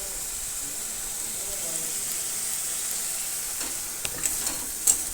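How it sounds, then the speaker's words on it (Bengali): Green chillies frying in hot oil give a steady, close sizzling hiss, with a few stirring clinks toward the end and some voice in the background. "দিছি তো 2-3 লঙ্কা, এই দেখো তেলের পরে দিলাম"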